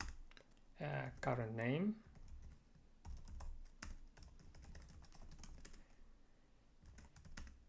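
Computer keyboard typing as code is written, clicks scattered through the clip after a brief stretch of speech at the start, with a voice talking over parts of it.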